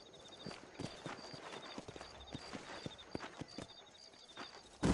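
Steady clip-clop of horse hooves walking at a moderate pace in the video game Red Dead Redemption, close by, with faint ambient background and a sharp noise burst at the very end.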